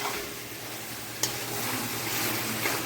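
Tomatoes and mushrooms cook down in a chicken biryani pot with a steady close sizzle and soft stirring, broken by one sharp click of a utensil.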